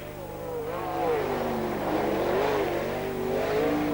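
Sprint cars racing at Speedway City in Adelaide, several engines revving and sweeping past in a swelling, wavering roar that stays loud throughout, with a steady low hum underneath.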